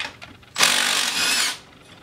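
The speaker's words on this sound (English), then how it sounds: "first thing you want to do is take your brake caliper off. It's two half inch bolts." A power tool on a 1997 Polaris Sportsman ATV backs out a half-inch brake caliper bolt, giving one loud, close whirring burst of about a second that starts suddenly after a quiet moment and then winds down.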